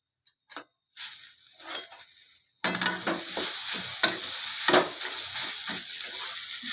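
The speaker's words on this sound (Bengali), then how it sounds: "ভালো করে এটাকে কষে নেব" A spiced potato mixture with chili powder and salt for potato chops is stirred in a hot pan. A few soft taps come first, then a sudden loud sizzle starts, with scraping spoon strokes over the frying.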